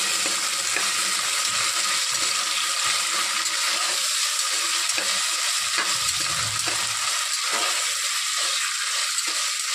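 Capsicum and ginger-garlic paste sizzle steadily in a hot pan while a spoon stirs them, giving a constant frying hiss with soft scraping and clinking strokes throughout.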